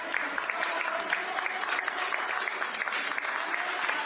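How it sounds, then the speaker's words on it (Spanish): A congregation at a Mass in a church sanctuary breaks into dense, sustained applause that fills the space evenly from start to finish, with no talking on top. "Los presentes rompen a aplaudir."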